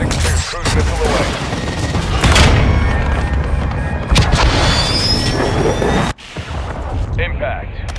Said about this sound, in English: Rodent 6-2, cruise missile away.